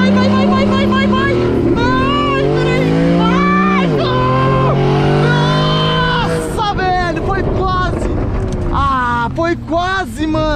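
A race car engine revs hard with traction control switched off, rising in pitch through repeated accelerations and gear shifts, loud and close, while excited voices shout over it.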